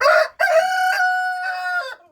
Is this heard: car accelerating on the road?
no